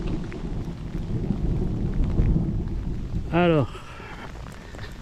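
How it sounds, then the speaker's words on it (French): Rain falls outdoors at the Castel de Saint Blaise as a steady, dense hiss, broken near the end by a brief rising chirp-like sound; one voice speaks a single word. "là je me prends une belle pluie"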